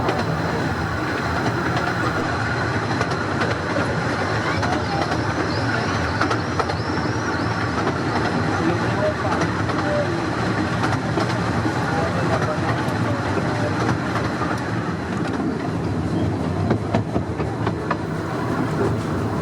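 The La'al Ratty miniature railway train rolls steadily along the line, with a continuous rumble and rhythmic clickety-clack of wheels, heard from on board.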